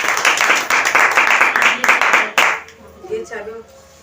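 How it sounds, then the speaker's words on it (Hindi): A church congregation claps hands together for about two and a half seconds, loud and dense, before it stops and a voice starts speaking. "सब मिलके परमेश्वर के लिए, परमेश्वर की उपस्थिति के लिए हम तालियां बजाएंगे"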